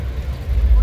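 A VW Nivus Highline with air suspension idles, its engine a low, steady rumble that swells slightly in a brief, close moment.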